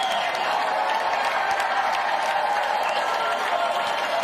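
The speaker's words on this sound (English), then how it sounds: "Clap for them now." An audience applauds in a large hall during a State of the Union address, a dense and continuous wash of many hands clapping at a steady level with a crowd murmur underneath.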